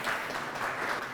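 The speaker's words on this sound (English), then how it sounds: "Please give a big round of applause to Nisha." An audience at a workplace panel discussion claps for a panelist in a brief, steady burst of many hands, with a moderate level and no speech on top.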